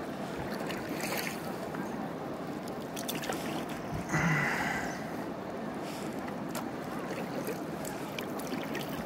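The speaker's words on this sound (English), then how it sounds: "More rapids." A kayak runs river rapids on the Hiwassee, with steady rushing water throughout and a brief splash or knock near the middle, moderately loud and close.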